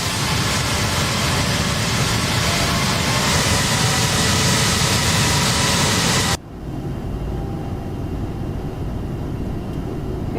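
Boeing 747-8 jet engines in the X-Plane 12 flight simulator roar as a loud, steady broadband rush that abruptly cuts to a quieter, lower engine hum.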